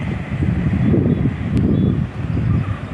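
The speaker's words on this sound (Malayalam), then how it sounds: "നല്ല ചെറിയ കാറ്റടിക്കുന്നുണ്ട്" Steady low rushing of wind buffeting the microphone at a hilltop viewpoint near Iritty, continuous and moderately loud with no voices.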